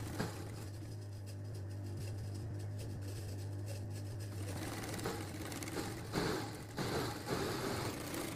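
Sewing machine stitching a blouse lining, a steady mechanical whir with a low hum running continuously, then rougher clattering bursts of stitching in the second half, fairly quiet and close.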